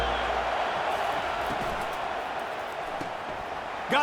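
Stadium crowd noise in the College Football 25 video game, a dense, steady roar of a large crowd filling the whole clip, loud and continuous with faint commentary-like talk beneath.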